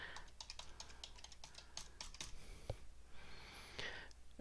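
A password is typed on a computer keyboard in a quick run of faint, close key taps, with a short pause partway through.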